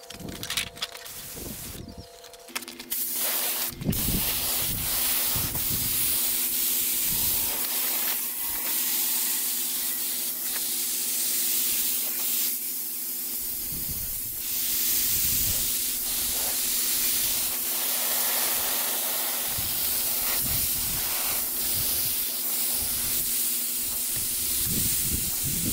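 A spray gun hisses steadily and loudly as primer is sprayed onto a 1977 Peterbilt 359 motorhome conversion, in long continuous bursts with brief pauses and a compressor hum underneath.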